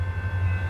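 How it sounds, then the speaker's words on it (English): CN westbound freight train approaching in Battle Creek, Michigan: a steady low rumble with a sustained tonal whine above it, moderately loud and continuous, heard alone without talk. "westbound train approaching"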